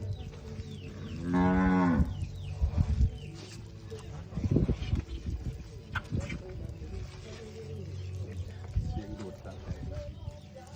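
A young heifer moos loudly once, a long drawn-out call close by, followed by cattle shuffling and thumping in a barn during artificial insemination.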